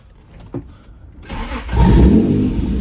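A Honda NSX sports car engine, run after months of neglect, cranks and catches without the clutch pressed, then revs up into a loud, steady roar that holds to the end.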